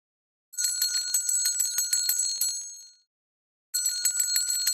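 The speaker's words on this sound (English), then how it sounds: "the answer was the sound of a bell" A bright metallic bell rings in a rapid, continuous trill for about two and a half seconds, stops, then starts again after a pause, loud and close with no talking.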